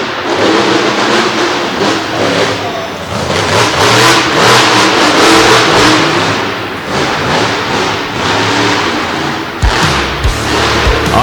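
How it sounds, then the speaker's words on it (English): A monster truck engine at a Monsters of Destruction show in Du Quoin, Illinois, revs hard and surges as it throttles over a ramp jump, loud and roaring, ending with a thud near the end, with no talk. "just start from the base of the ramp and throttle it over that jump."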